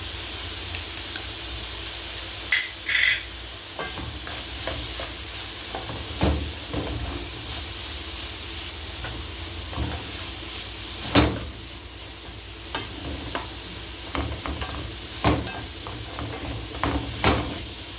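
Cauliflower, mixed vegetables and garlic frying in a pan give a steady soft sizzle and hiss, broken by scattered clinks and stirring knocks throughout.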